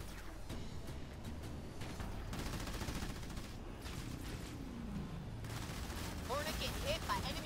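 Ground troops trading gunfire in Halo Wars 2, a continuous crackle of rapid shots and bursts at moderate distance, with game voices talking over the fighting.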